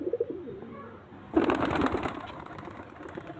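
Soft pigeon cooing close by, a brief low call at the start followed by a louder burst of coos and fluttery rustling.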